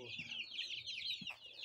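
Young pure-bred Adler chicks, about one and a half months old, cluck and chirp together in a brief, faint burst of overlapping calls.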